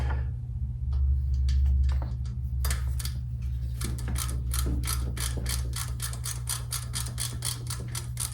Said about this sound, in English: My ratchet might get stuck, which it is.